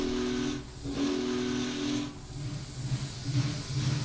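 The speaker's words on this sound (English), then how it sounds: "Blow the whistle." Whistle of a Union Pacific Big Boy steam locomotive in Train Simulator 2024: two long, steady, loud blasts with a brief gap between them, over constant hiss of steam and heavy chuffing.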